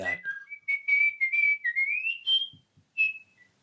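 A person whistles a short melodic tune meant to be Dixie, clear sustained notes sliding between pitches, close and alone, ending with a brief trailing note.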